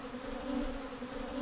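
Worker honeybees buzz in a steady, close drone with a clear tonal hum that holds without a break for the whole moment, no voices.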